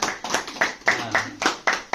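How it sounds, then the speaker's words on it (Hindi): A small group claps loudly for a woman at a business meeting. The claps come in bursts of firm, close strikes, each bunch fading briefly before the next, and a voice is faintly heard under the clapping. "मैडम के लिए जोरदार ताली होना चाहिए।"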